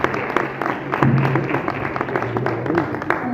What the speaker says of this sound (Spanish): Un fuerte aplauso para ellas, que lo han hecho súper bien.